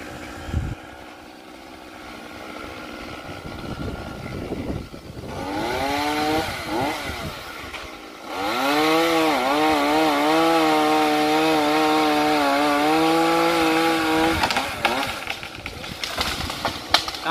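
A chainsaw cuts through the top section of a eucalyptus tree, its engine revving and straining loudly in long sustained bursts with brief idle dips between cuts, outdoors on a windy day.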